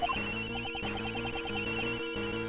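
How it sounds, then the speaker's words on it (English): A cell phone rings inside the Ace Attorney Investigations 2 video game, a steady repeating electronic ringtone pattern over a constant game music bed, with no voices. "her cell phone"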